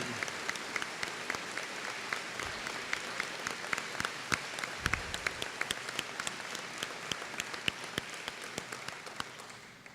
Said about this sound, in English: So could you begin your ebullience by applauding?